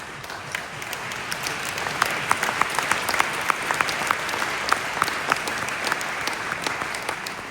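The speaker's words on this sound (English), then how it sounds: "we should give her a round of applause" Steady applause from a sizeable crowd at a talk, dense clapping sustained throughout at a strong, even level.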